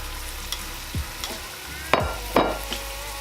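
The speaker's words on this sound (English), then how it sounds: "Let's go ahead and add our rump roast or our beef roast into this olive oil." A beef rump roast sears in hot olive oil with a steady sizzle, broken by a few sharp scrapes and clatters, close up with no talking.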